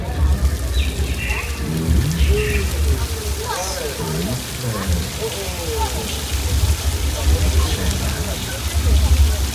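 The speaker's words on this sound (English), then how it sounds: "Let's keep some rain in there" Artificial rain pours steadily onto a Universal Studios backlot set, a constant hiss of falling water with scattered patter, while people talk over it throughout.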